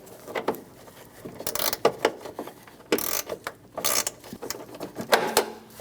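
Bolt being snugged down on the windshield washer reservoir bottle of a 2003-2026 Chevrolet Express 2500, with close clicking, ratcheting and mechanical rattles in irregular bursts, no talking.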